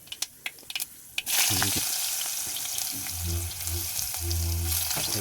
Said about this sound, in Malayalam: വെളിച്ചെണ്ണ ഉലുവയും കൊടുക്കാം ഉലുവട്ട് ഇളക്കി